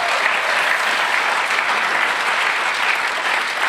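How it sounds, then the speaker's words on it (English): Audience applause at a talk on building resilience: steady, dense clapping from a crowd, loud and continuous throughout with no pauses. "So should we give you another round of applause?"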